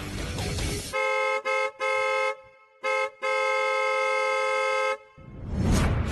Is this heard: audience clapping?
no